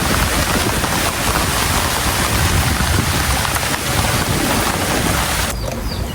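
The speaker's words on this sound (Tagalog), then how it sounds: "Grabe po ang ulan, no?" Heavy rain pours down steadily in a loud, continuous roar that fills the whole clip with no pauses.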